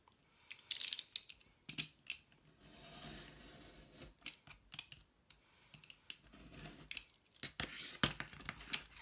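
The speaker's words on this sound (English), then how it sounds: "I'm just going to cut that out between them" Scissors snip through lace and ribbon scraps in a series of sharp, close, quiet cuts, irregular clusters of crisp clicks separated by short pauses.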